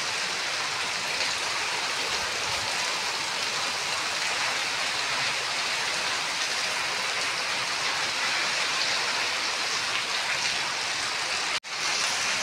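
Torrential rain lashes down in a windstorm around a home, a constant loud roar of water that holds steady before a brief dropout near the end.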